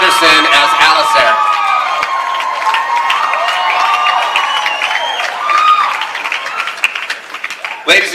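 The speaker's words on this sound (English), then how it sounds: "please give a warm round of applause for the Twilight Saga Breaking Dawn Part 2" Loud, sustained applause and cheering from a large audience at a 2012 Comic Con panel for Twilight Saga Breaking Dawn Part 2, continuous clapping with whoops, easing slightly toward the end.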